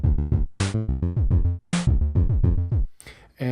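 A Pico-8 chiptune groove plays: a bouncy synthetic bass line under short bright square-wave notes, punctuated by noisy percussion hits in a quick, looping rhythm, loud and clean with no voice.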